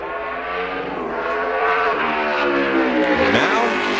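A NASCAR race car screams through a qualifying lap, its loud engine note climbing steadily through the gears, then dipping and swooping as the car passes or shifts.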